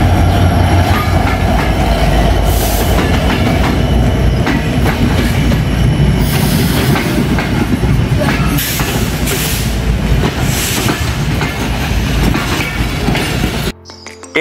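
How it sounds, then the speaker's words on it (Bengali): A train pulls into Birampur station on the Santahar to Birampur line. A loud, continuous rumble of wheels fills the whole stretch, with rhythmic clacking and bursts of metallic squeal until it cuts off at the end. "দেখতে দেখতে ট্রেনটি প্রবেশ করে গেল স্টেশনের ভিতরে।"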